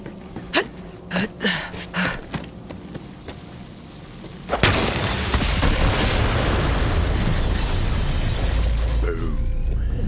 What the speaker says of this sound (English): The explosion echoed through the forest